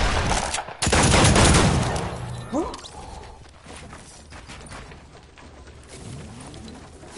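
Revolver gunfire in a Fortnite Wild West round: a loud burst of several close shots at the start, followed by quieter game ambience with a few softer impacts and faint voices.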